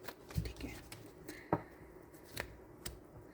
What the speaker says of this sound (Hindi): एक लास्ट शफल मैं करना चाहूँगी।